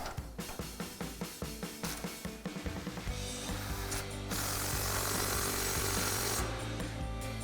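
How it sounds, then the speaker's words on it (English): An impact wrench with a 21mm socket tightens a track bar bolt on a Jeep Wrangler JL during a suspension lift: a string of rapid hammering pulses, then a steady loud whirring run, close and without talk. "Take our impact with a 21mm socket and tighten it down."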